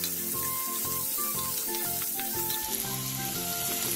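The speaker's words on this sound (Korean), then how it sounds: "오목한 팬에 기름을 두르고 채 썰어 놓았던 감자를 넣어 살짝 투명해질 때까지 볶아주세요." Julienned potatoes stir-frying in oil in a concave pan give a steady, close sizzle, with rhythmic scraping and stirring strokes of the utensil repeating under it.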